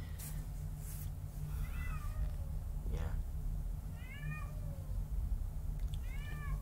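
A cat meows several times in the background, short rising calls repeating every second or so over a steady low hum.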